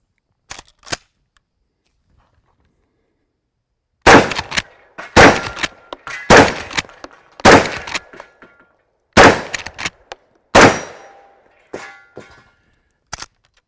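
A Henry lever-action .410 shotgun fires repeatedly at metal targets outdoors, each sharp report followed by a ringing clang, about eight shots spaced a second or so apart with quiet gaps between.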